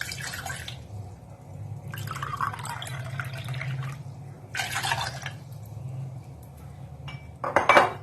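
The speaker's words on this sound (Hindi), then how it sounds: "सबसे पहले हम एक पैन के अंदर जो है 2 कप पानी ले लेंगे।" Two cups of water are poured into a pan for cinnamon tea, in several separate splashing bursts, with light metallic clinks of the pan and a low background hum.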